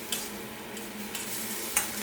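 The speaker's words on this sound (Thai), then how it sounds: "คั่วไปเรื่อยๆ นะครับ" Beef sizzles steadily as it is stir-fried in a hot pan with young green peppercorns, with a couple of sharp clinks of a utensil against the pan and no voices.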